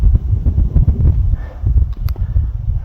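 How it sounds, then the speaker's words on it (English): Strong wind buffets the microphone during a Montana antelope hunt outdoors, a continuous low rumbling roar with gusty surges and no clear voices. "It's pretty windy"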